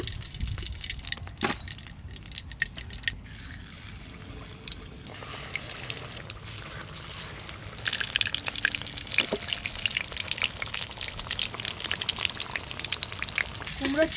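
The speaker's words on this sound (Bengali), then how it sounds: "এই যে কুমড়োর চপ ভাজা হয়ে গেল।" Pumpkin chops deep-frying in hot oil, cooked outdoors with homegrown vegetables, give a steady bubbling sizzle that thickens and grows louder partway through, broken by a few sharp clatters early on.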